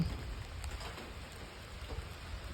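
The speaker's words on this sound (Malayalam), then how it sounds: "അയ്യോ മഴ കടുത്തു" Steady rain falling outdoors over a vegetable garden where spinach seedlings are being planted, a soft continuous patter at moderate level with no talk.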